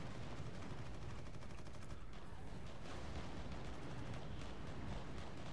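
Dense, continuous gunfire and explosions in the Warhammer 40,000: Eternal Crusade video game, a loud, unbroken barrage of overlapping shots with no talk.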